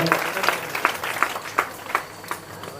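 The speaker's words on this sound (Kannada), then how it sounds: "ಜೋರಾದ ಭಕ್ತಿಯ ಚಪ್ಪಾಡಿಯನ್ನು ನಾವು ತಟ್ಟೋಣ" Steady clapping from a group at an honouring ceremony for guests, with regular sharper beats giving it a rhythmic pulse, plus a murmur of voices underneath.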